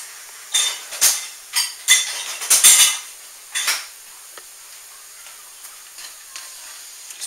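A utensil scrapes and clinks against a pan while stirring and breaking up melting butter for a meatloaf dinner, several quick close metallic knocks and scrapes in the first few seconds, then lighter sparse taps.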